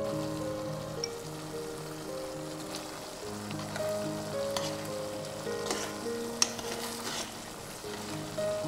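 Eggplant pieces simmering in a reducing sauce in a pan, a steady close sizzle and bubbling with occasional soft stirring, while background music plays.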